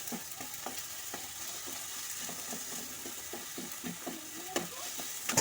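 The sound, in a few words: stirring tomatoes and onions frying in a pan with a spatula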